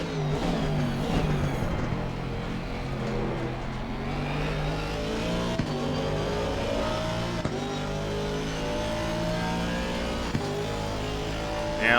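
An Aston Martin V8 GT3 race car in a racing game at Imola, its engine droning loud and continuous with rising and falling revs through gear changes, with no talk over it.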